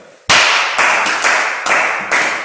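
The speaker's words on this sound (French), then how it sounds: "Applaudissez pour elle" Audience applause after a call to clap for a woman during a French-language talk on negotiating; loud, dense clapping that surges in several abrupt swells over two seconds.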